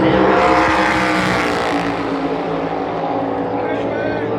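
A NASCAR Cup Series race car screams around Phoenix Raceway during championship qualifying, its engine a loud, steady roar from the stands that shifts pitch slightly as the car passes through the turns and down the back straightaway.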